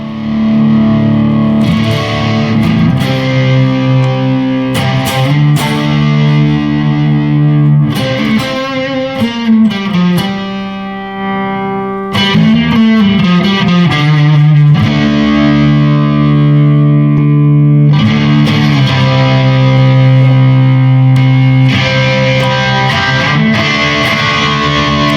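Electric guitar played through overdrive pedals into a Bad Cat amplifier, loud and sustained with thick distorted chords and riffs, short pauses between phrases, no talking.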